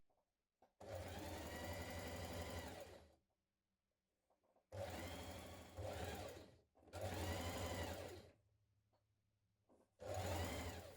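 A sewing machine stitches a shirt's shoulder seams in four bursts of fast whirring, each a few seconds long, separated by near-silent pauses.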